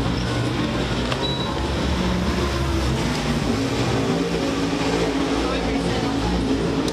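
A super late model dirt race car runs a qualifying lap at Tazewell Speedway, its engine a steady, unbroken roar that fills the whole stretch at a constant level.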